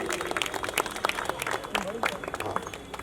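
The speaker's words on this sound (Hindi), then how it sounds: "ताली होनी चाहिए" An audience at a railway jobs seminar claps for a guest called onto the stage, a scattered, uneven patter of hands under an announcer's talking voice.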